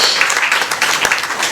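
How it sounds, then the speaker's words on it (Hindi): A crowd at a ceremony applauding steadily to welcome a team, dense clapping from many hands filling the whole stretch without pause. "एक बार फिर से तालियां बजाकर पूरी टीम का स्वागत करें"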